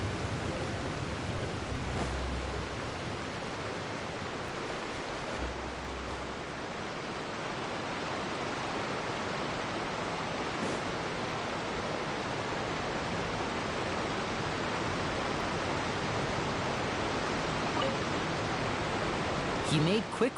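A large waterfall in the video game Genshin Impact roars as a steady, dense wash of noise, constant and unbroken for the whole stretch, loud and near, with no voices over it.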